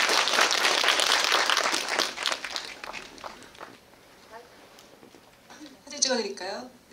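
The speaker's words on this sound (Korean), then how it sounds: "박수 부탁드립니다" A small audience at a Korean actor's talk event claps for a few seconds, the applause fading quickly, followed by quieter shuffling and a voice speaking near the end.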